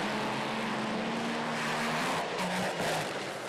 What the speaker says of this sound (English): the entirely Australian made and designed Top Fuel dragster, the billet 3-valve, the only car of its type running anywhere in the world